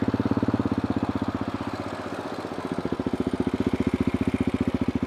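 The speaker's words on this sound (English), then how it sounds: "So yeah, I really like the sound of the Akrapovic with" A 2011 KTM 690 SMC single-cylinder engine idling through an Akrapovic exhaust with the baffle removed, a close, loud, rapid and even thumping pulse that dips briefly and then steadies again.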